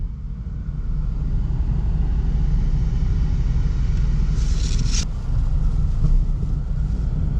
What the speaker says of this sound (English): We're gonna put it on AC, and oh yeah, I can feel it blowing out.